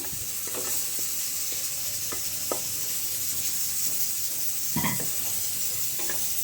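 Cooked mutton sizzling and frying in a pan with ginger-garlic paste while being stirred, giving a steady close hiss broken by scraping stir strokes, the loudest near the end.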